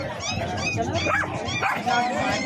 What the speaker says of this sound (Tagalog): Meron tayo ditong Doberman.